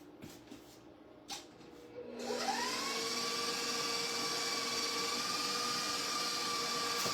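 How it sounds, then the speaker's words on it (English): An electric stand mixer whirs into a steady high-pitched hum as it starts up, the motor running continuously after a few faint knocks, while frosting for a coconut cake is made. "I'm gonna get my mixer started again."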